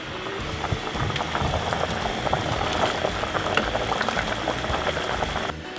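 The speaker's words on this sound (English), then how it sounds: "All those bones and vegetables and wine simmering away." A pot of stock with bones, vegetables and wine simmers on the stove, a steady close bubbling and burbling that runs continuously with no talk over it.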